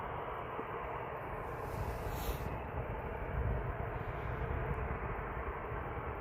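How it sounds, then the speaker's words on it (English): A Ryanair airliner on the Pisa flight rolls down the runway at Manchester Airport as a distant, faint, broad engine roar that swells slightly and holds steady. "So, Ryanair's rolling now"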